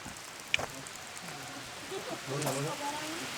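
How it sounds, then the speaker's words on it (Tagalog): Steady rain hisses in the background, with a brief knock and quiet voices murmuring underneath. "Parang ang dami naman ng ulan na to."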